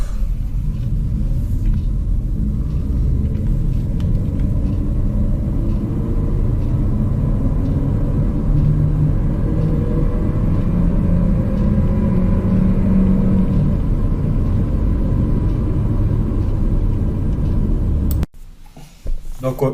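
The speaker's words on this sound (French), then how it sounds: "On va se voir une petite accélération." A Renault Arkana Esprit Alpine with automatic gearbox accelerates, its engine and road noise forming a steady low rumble heard from inside the cabin, rising gently before cutting off abruptly near the end.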